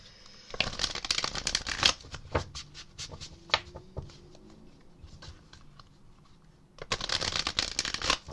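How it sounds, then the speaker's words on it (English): Tarot cards are shuffled in quick riffling bursts, a loud flurry at the start, scattered taps in the middle, then another riffle at the end. "I'm getting ready to shuffle"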